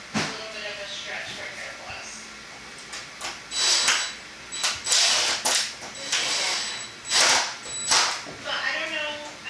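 Larger screws are driven into a Tacoma instrument cluster with a hand tool, giving a series of short, close ratcheting and creaking bursts, with a quiet voice talking in between.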